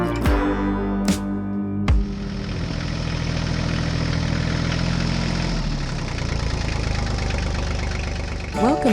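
Small Swaraj tractor engine idling with a steady low knocking diesel rumble, close and continuous, with a few sharp knocks near the start and a voice speaking over it.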